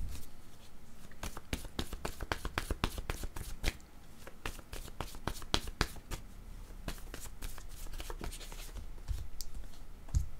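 Playing cards riffle and snap continuously in a close, steady run of rapid crisp clicks that barely pauses.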